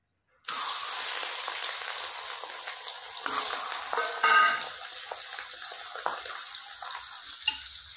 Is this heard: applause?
no